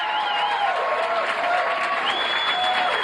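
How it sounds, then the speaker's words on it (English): Comedy club crowd in Sacramento applauding comedian Tim Bedore as he takes the stage, a steady, even roar of clapping with a few faint cheers over it. "How about a nice round of applause?"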